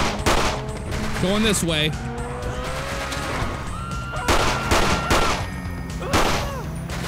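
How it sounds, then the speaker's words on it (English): Gunfire in the GTA video game around Los Santos, with rapid bursts of shots and crashes during a street shootout, loud and close. Someone talks briefly over the shooting. "And they were shooting at us, so we're going to do the return the favor. Oh, still shooting at us."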